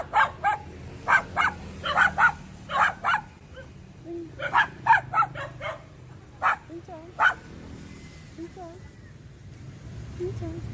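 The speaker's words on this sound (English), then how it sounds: "Get attacked by the dog." A dog barks in sharp bursts, mostly grouped pairs and clusters over several seconds, fairly close and loud, then drops off into a few softer yips and whimpers with people talking underneath.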